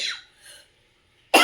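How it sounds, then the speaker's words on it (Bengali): A person with a bad cough gives a rasping cough that fades out, then a moment of silence before another sharp, loud cough cuts in. "প্রচণ্ড কাশি হয়ে গেছে আমার।"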